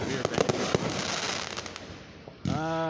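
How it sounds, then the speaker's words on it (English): Fireworks show opening on the Fourth of July in Booneville: several sharp, loud bangs and crackles burst in quick succession at a distance, followed by a rising whistling tone from a launching shell. "and they're starting off with a severe"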